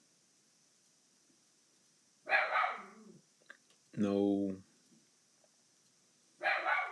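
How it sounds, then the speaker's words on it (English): A dog barks indoors in a few separate bursts, medium loud and somewhat near, with quiet room tone between them and a brief word spoken. "the dog is barking right now"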